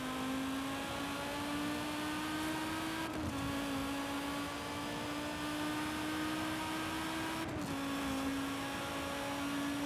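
A car engine in Forza Horizon 5 drones at a steady high pitch, climbing gradually, then dropping briefly at two gear shifts before rising again; the engine is loud and continuous with no talking.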